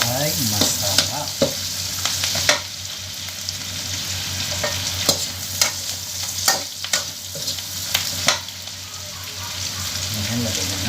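Pakbet vegetables stirred and frying in a pan, with a steady sizzle punctuated by repeated scraping clacks of the spatula against the pan over eleven seconds, close and fairly loud, with no talking.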